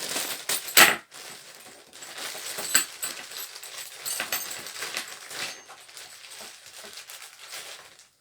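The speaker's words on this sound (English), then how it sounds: "You get a bag of tools as well. You get a couple of Allen keys." Small metal Allen keys jangle and clink inside a tool bag unpacked from a Mountfield MM2603 3-in-1 multitool strimmer box, with a sharp rattle near the start followed by softer continuous rustling and clinking close by.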